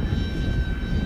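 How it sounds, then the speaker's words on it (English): A small motor running at full throttle in gale-force wind, giving a steady, buzzing drone with a constant high whine, heard alone. "Listen to that motor going. Full power."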